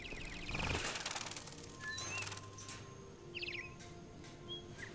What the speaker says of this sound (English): These mechanical birds, are they? Wait a minute. That's an android bird.